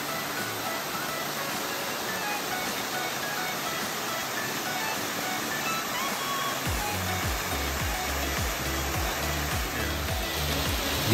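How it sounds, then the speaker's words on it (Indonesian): Forest stream water rushes continuously near a waterfall, a steady broadband wash that holds an even level throughout, with some low rumbling from a nearby disturbance late in the stretch. "Gimana teman-teman suara aliran air di tengah hutan?"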